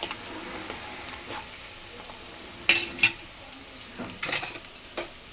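Onions fry in a pan with cinnamon and cloves, giving a low sizzle that is broken by a few sharp utensil clinks and scrapes against the pan.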